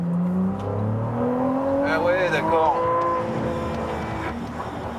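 A Ferrari 296 GTB hybrid accelerates hard, its engine note rising in pitch and building in loudness from inside the car, with people talking over it.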